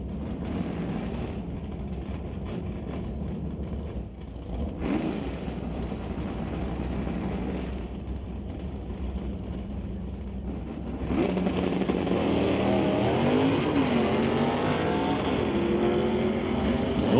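Drag racing cars, including a Camaro, run side by side down an NHRA strip, a steady loud engine roar that swells and grows louder near the end with rising and falling engine tones.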